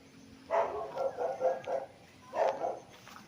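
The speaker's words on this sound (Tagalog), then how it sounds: "aso po yun ang kapitbahay mga kapraps, yung naririnig natin na aso" A dog barks in two rapid bursts, several barks then a couple more, moderately near, with no talking.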